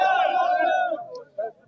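A political rally crowd at an outdoor PTI gathering shouts a slogan back in unison, a loud sustained roar of many voices lasting about a second before fading, followed by a brief fainter shout.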